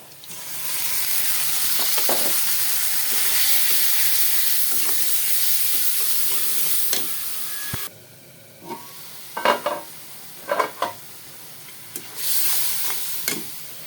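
Shrimp frying in hot oil with onion, green chili, salt and turmeric, a steady broadband sizzle with stirring for about eight seconds, then quieter intermittent scraping and sizzling bursts.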